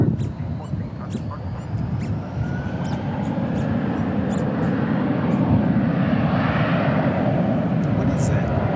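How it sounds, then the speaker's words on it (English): A Boeing 777 airliner at DFW airport gives a broad, steady roar that swells gradually as it passes, with faint clicking and chirps above it. "We'll see about this 777."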